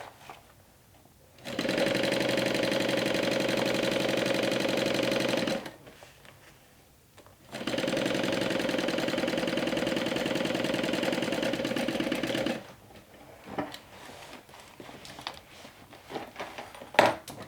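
A sewing machine runs in two long steady bursts, stitching the lining of a backpack being turned into a handbag, with a short pause between them and quiet handling noises after; close and fairly loud.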